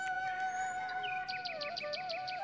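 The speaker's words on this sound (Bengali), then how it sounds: "তারপরে হচ্ছে পাখিদের ডাক শোনা যায়।" Birds call in a park in the early morning, quiet and somewhat distant, with sustained whistled tones and a quick run of repeated chirps partway through.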